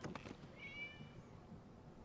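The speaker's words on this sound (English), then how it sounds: "It was just a cat." A cat in the video game Genshin Impact gives one short, faint meow that rises and falls in pitch, heard alone against a quiet background.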